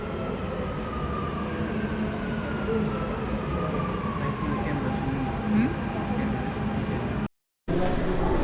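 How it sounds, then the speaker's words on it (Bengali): A Dubai Metro train rolls into a station with a loud, continuous rumble and rail noise. A brief gap in the sound comes near the end. "আমরা এখন মেট্রো থেকে নামছি"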